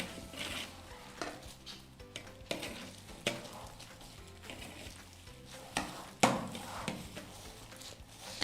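A spoon spreads filling over a cake, producing faint, intermittent scrapes and soft clicks against the cake and dish, close by in a quiet kitchen.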